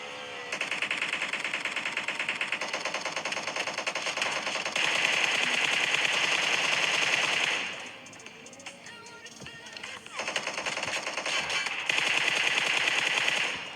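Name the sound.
gunfire in a battle royale video game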